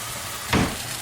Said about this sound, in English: Add a little seasoning salt, stir that in.